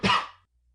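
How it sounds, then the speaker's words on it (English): A man coughs hard in a dramatic audiobook reading, one harsh burst of a cough that fades within half a second, close and loud, with no speech over it. "replied the constable, coughing with great violence"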